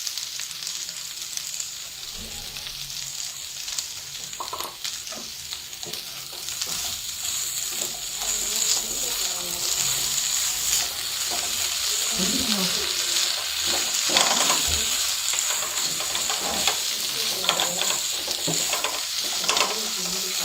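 Potato samosa filling stirred with masala in a pan, close scraping and stirring strokes over a continuous sizzle and hiss, getting busier and louder partway through.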